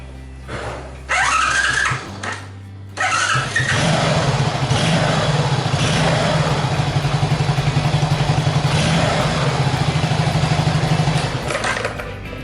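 Honda Super Cub engine turning over on its electric starter in two short bursts, then catching and settling into a steady, close, loud idle with a regular mechanical chatter.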